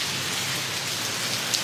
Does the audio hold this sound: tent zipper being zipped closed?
no